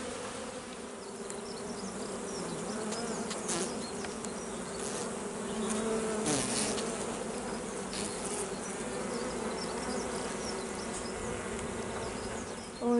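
Honey bees swarm around an open hive during a spring inspection, a dense steady hum of many wings at close range that keeps on without a break, with no voices over it.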